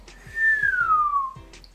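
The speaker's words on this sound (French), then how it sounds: "J'arrive même pas à siffler, moi je fais genre mais j'arrive même pas à siffler" A single sustained whistled note sliding slowly downward in pitch, with soft breathy puffs and clicks around it.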